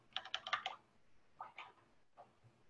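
Someone types on a computer keyboard with a quick run of several crisp keystrokes, a pause, then two smaller clusters of taps, close and fairly quiet.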